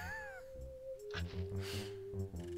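A cat in the King's Quest VII video game meows and wails in a drawn-out, rising and falling cry. It repeats in several wavering, mournful calls, with tonal game music underneath.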